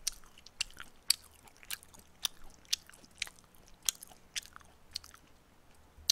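Close, sharp bites into crispy Pizza School pepperoni pizza crust, heard as about a dozen distinct crunchy snaps spaced through a quiet chewing stretch, with no voices.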